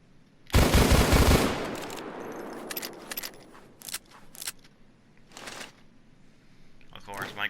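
A Taurus Judge shotgun revolver firing in Payday 2, with a loud burst of rapid shots up front that trails into echo, followed by several separate sharp shots at irregular intervals.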